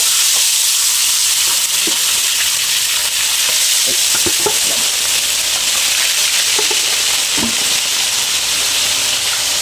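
Steady, loud sizzling of mackerel frying in hot oil, with occasional pops and crackles throughout and no talking.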